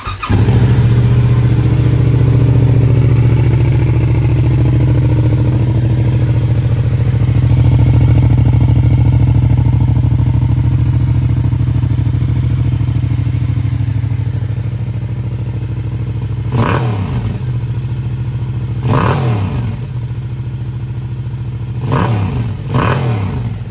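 A DT motorcycle with about 5,000 km and over €3,000 of added parts runs loudly and close, a steady two-stroke drone that later breaks into several sharp rev bursts.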